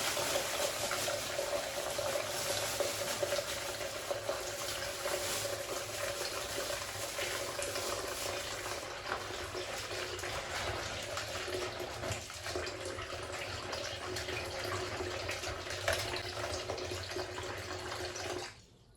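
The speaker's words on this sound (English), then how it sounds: "Soak our abacha in water." Water is poured over dried abacha shreds (cassava) to soak them for African salad, giving a steady, fairly loud splashing and gushing that runs continuously for most of the stretch before stopping abruptly.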